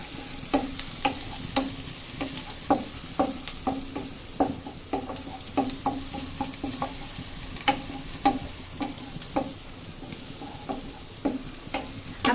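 Whole cardamom, cinnamon and bay leaf frying in a pan for a farm chicken curry, a utensil scraping and stirring in an uneven rhythm of sharp clinks over a steady low sizzle, close and moderately loud with no talking.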